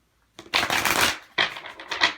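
Tarot cards riffle-shuffled in two quick close bursts, a long crisp flutter followed by a shorter one, with no voices.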